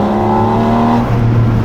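Porsche 718 Spyder RS with a naturally aspirated engine revs loud and close, a steady harmonic engine tone that shifts pitch partway through, heard alone without talk.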